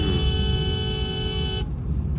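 A Honda Amaze automatic sounds its horn in one long sustained honk over road and engine noise, loud and close, cutting off abruptly near the end.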